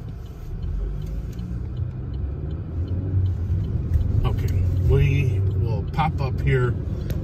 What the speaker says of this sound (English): jump on the expressway, get her up to highway speeds